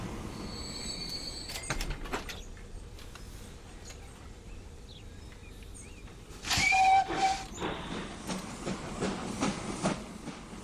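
A freight train carrying wheat in the video game Transport Fever 2 rumbles along with a low, steady hiss, then a louder burst of clanking and metallic screeching as it rolls in and slows.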